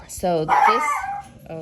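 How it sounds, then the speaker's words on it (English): Dogs barking indoors at home: a couple of sharp, close yips and barks burst out loudly over a person's speech, followed by a whimpering trail. "excuse my dogs."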